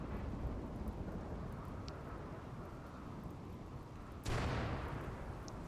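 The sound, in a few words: rain and thunder in RimWorld video game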